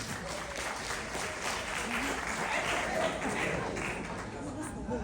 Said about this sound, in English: Keep the applause going as we welcome GQ number 7